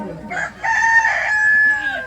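A human voice imitating a rooster crowing, one loud drawn-out cock-a-doodle-doo call, close and alone.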